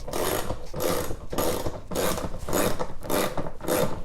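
A ratchet wrench turns a bolt on a golf cart seat in quick repeated bursts of clicking, about six strokes with short pauses between them, close and clear, with no talking.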